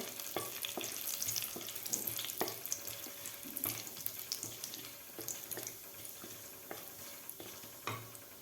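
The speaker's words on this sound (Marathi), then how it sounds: "आता यामध्ये घालायचे आहेत आपल्याला जिरेसुद्धा व्यवस्थित परतून घ्यायचे आहेत आपल्याला" Cumin seeds and bay leaves sautéing in hot oil for Maharashtrian green peas rice, a soft steady sizzle with scattered clicks and scraping stirs throughout, close and moderately quiet, no voices.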